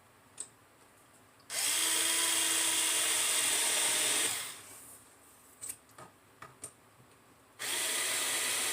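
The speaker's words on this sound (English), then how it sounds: "I love this little drill screwdriver." A small handheld smart-driver drill screwdriver whirs in two sustained bursts while assembling a kitchen organizer, with light clicks and taps between runs, close and fairly quiet.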